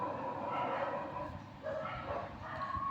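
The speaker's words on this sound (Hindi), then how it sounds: "कुत्ते भौंक रहे हैं" Dogs bark and yip faintly in the background, a few short bursts over a quiet room.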